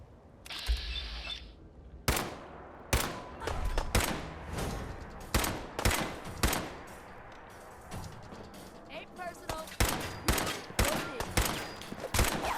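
Tommy gun fire in Fallout 4 crackles in repeated sharp bursts and single shots at uneven intervals, loud and close, with someone talking between and over the volleys.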